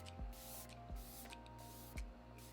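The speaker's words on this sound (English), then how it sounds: "So I'm gonna spray this all over my face." A fine facial mist spray bottle gives a few short, soft hissing spritzes, spaced apart at close range, each preceded by a faint pump click, in a quiet room.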